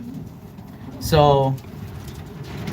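A racing pigeon cockbird in a home loft gives one clear, close coo lasting about half a second, with someone speaking over quiet background before and after it.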